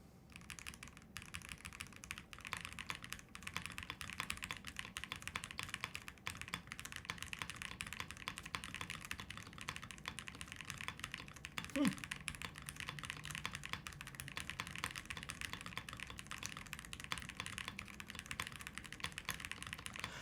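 Typing on a link65 mechanical keyboard sitting directly on a desk with no desk pad, a steady stream of quiet keystroke clicks lasting throughout, close and faint with no talking.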